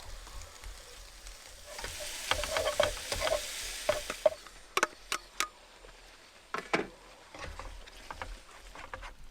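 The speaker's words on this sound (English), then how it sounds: "I've got a nice beef stir fry coming on with plenty of mushrooms, capsicum and snow peas plus rice" Beef stir fry with mushrooms, capsicum and snow peas sizzles in a pan at a camp in Currawinya National Park, a steady hiss broken by irregular scraping and clinking stir strokes that fade as the sizzle dies down.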